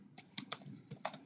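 A short ping command is typed on a computer keyboard, a handful of crisp, distinct key clicks spaced unevenly over about a second, close and clear in a quiet room.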